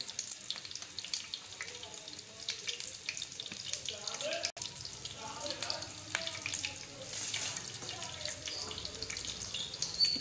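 Egg-coated mutton nargisi kofta fry in hot oil, a continuous close sizzle and crackle with bursts of bubbling, steady throughout with no talk.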